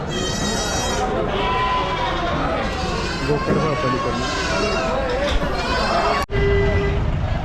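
Goats at a large goat and sheep market in Chakan, Maharashtra, bleating repeatedly and close by over steady crowd chatter and voices, with a sharp knock near the end.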